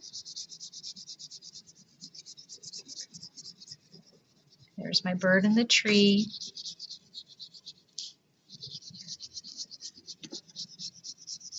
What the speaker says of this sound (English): I'm going to layer a little purple on here